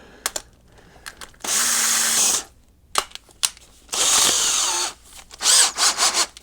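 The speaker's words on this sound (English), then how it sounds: "Okay, I use a drill and a paint mixer." An old 14.4-volt DeWalt cordless drill fitted with a 20-volt battery adapter spins a paint mixer through sugar in three loud, close bursts of whirring, the last one stuttering on and off, separated by scraping and knocking.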